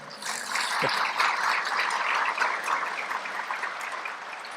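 A congress audience applauds at a spiritual gathering with a steady, crowded wash of clapping that holds fairly even for several seconds and then eases slightly.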